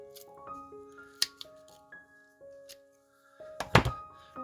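Scissors or a blade cutting a piece of craft material roughly in half, with a few sharp snips and thunks, then a louder crunching burst of cutting near the end, close by amid faint tonal background sounds.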